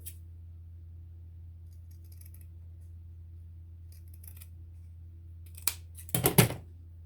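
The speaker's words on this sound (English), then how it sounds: "Cut out a rectangle." Scissors cut a rectangle out of fabric for a small needle book: a low steady hum, then a few faint snips and a quick close burst of crisp blade closes near the end.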